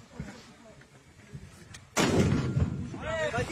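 Artillery fire on the Russia–Ukraine battlefield lands as one heavy booming blast followed by a long rumbling roar, with people talking in the background before and after.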